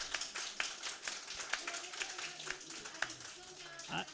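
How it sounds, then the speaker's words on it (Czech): Churchgoers clap for the girls who cooked cabbage soup after a worship service, a moderate, scattered patter of hands in a hall with voices talking over and around it. "Poprosíme potlesk pre dievčatá,"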